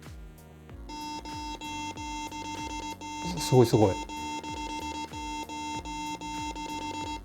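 A HUAWEI WATCH GT Runner smartwatch's water-eject function emits a loud, steady electronic tone with rapid pulsing low buzzes beneath, as a voice briefly exclaims in the middle.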